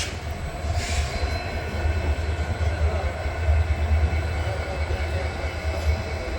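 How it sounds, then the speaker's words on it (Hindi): Hazur Sahib Nanded–Sri Ganganagar Superfast train approaching, a steady loud rumble of wheels and rolling stock with a brief squeal or horn-like tone near the start, continuous throughout. "सामने से आ रही है हजूर साहब नांदेड़ श्रीगंगानगर सुपरफास्ट।"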